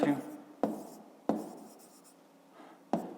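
Pen or marker strokes writing out a fifth-grade area problem, a few sharp taps and scratches spaced about a second apart, close and fairly quiet, with a voice talking over parts of it.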